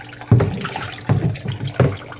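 A pump draws saltwater through a weighted intake at an aquarium mixing station, three watery surges of gurgling and sloshing that rise and ease off in turn, close and fairly loud.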